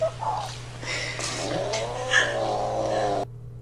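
A cat yowls in a long, drawn-out wavering cry, loud and close, rising and falling over about three seconds above a steady low hum, then cutting off abruptly.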